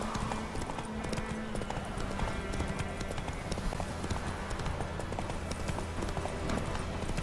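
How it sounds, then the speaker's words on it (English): A horse gallops through a forest in The Witcher 3 video game, with rapid, continuous hoofbeats at a steady rhythm throughout, close and fairly loud. "Through the forest at a gallop."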